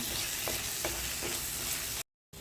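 Tomatoes, fennel powder and curry leaves sautéing in a pan for Kerala fish mulak curry, a steady close sizzle with a few soft spatula scrapes, cutting off briefly near the end.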